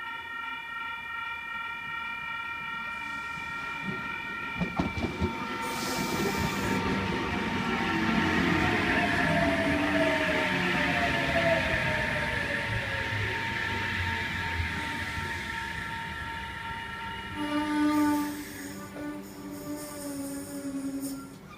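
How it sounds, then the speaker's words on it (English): An Oscar H-set (H7) electric train of Sydney Trains rolls into platform 1 at Wondabyne station, a steady rising rumble and whine of wheels and motors building close by, with brief horn-like tonal sounds near the end. "We've got an Oscar approaching platform number 1."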